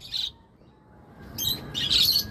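Several pet birds in free flight chirp and call from a neighbouring house, short bright tweets in bursts, at a distance, with a faint low rumble of background noise and no talking.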